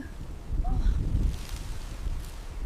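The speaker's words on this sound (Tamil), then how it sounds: "காற்று ரொம்ப அதிகமா இருக்கு." Strong wind on a mountain buffets the microphone, rumbling and gusting heavily, with a faint rustle and a brief high chirp in the background.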